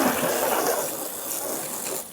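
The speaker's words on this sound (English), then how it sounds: "So let's see how it hoses off and see how we do." A garden hose sprays water over a blue car coated with graphene ceramic detailing spray, a close, steady broadband hiss of spray and splashing that softens toward the end.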